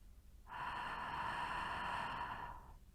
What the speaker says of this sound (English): The friction noise remains the same, both when inhaling and exhaling.